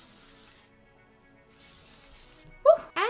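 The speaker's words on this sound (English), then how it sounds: "I'm just going to spray these curls." Two short bursts of hairspray on curls near the end, a quick hiss then a longer one, after a faint background hum.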